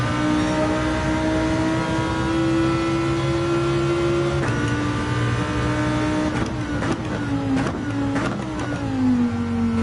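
A race car engine in a racing video game, a steady loud drone holding pitch, then dipping and climbing again through several quick shifts and revs near the end.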